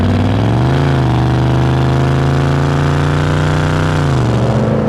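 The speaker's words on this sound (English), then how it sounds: "And then there's the V8. It's got around 270 horsepower, and it sounds like this." Classic Ford Mustang V8 of around 270 horsepower running loud and close, a steady deep rumble that swells and eases in pitch through a couple of gentle revs, with no talk over it.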